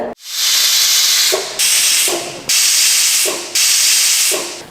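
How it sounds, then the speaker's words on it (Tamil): A pressure cooker vents steam in four loud, close hissing whistles, each burst sustained for about a second before a brief drop, repeating in a steady rhythm with no speech. "அவ்வளோதாங்க நாலு விசில் வந்துடுச்சு இப்போ குக்கர் எடுத்து அப்படியே ஒரு பக்கம் வச்சிடலாம்"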